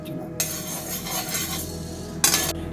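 Cumin and spices are dry-roasted in an empty pan with no oil, giving a steady scraping, rustling sizzle with two brief louder bursts of stirring against the metal.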